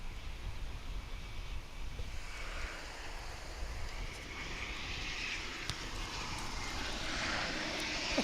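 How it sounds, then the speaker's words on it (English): Airplane at DFW International Airport, a distant steady jet engine roar with wind rumbling across the microphone, slowly swelling toward the end. "aircraft action for you here."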